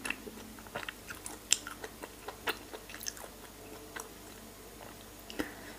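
Close, quiet chewing of soft, chewy tokpokki Korean rice cakes, with irregular small squishy and sticky mouth sounds repeating over several seconds and no talking.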